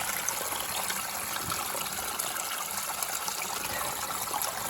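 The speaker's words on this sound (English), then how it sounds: "Got a little flowing drainage here." Steady flowing water trickles and splashes continuously close by as it runs down a mountain drainage, a constant broadband wash with no voices.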